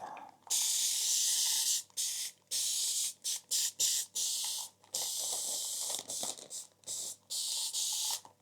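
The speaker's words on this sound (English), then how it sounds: "Let's spray a bit." Repeated hissing bursts of a spray bottle, some long and sustained, others short quick squirts in a rapid cluster, close and loud.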